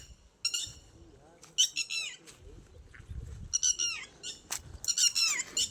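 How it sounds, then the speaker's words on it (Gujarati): Red-wattled lapwings call outdoors near a stepwell on monsoon farmland, giving repeated sharp, high squawking cries in uneven bursts over a faint low rumble of the surroundings. "જો તો મિત્રો ટીટોડી બોલે."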